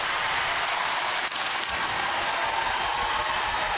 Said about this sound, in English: Crowd reacting now.